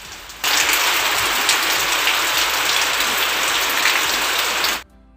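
Steady rain pours down outdoors, a dense continuous hiss of drops striking surfaces, starting abruptly and cutting off near the end, with no voices.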